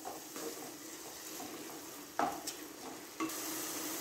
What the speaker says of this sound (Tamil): இந்த தக்காளியை நம்ம வதக்கணும்